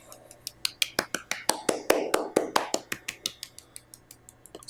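Sharp hand claps sounding one at a time in a steady, even rhythm, built up from two fingers, then three and four, and finally both palms, each clap crisper and louder than the last. No voices are heard.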